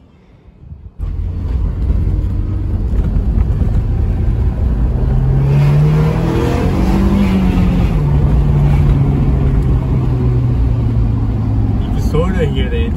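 A Honda S2000 with a new intake, driven on the road, its engine droning steadily and climbing in pitch as it revs through gentle shifts, loud and close, with someone talking over it throughout.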